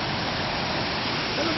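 Secondary waterfall in the park at Edessa, Greece, a steady broadband rush of falling water that holds constant and close throughout with no breaks.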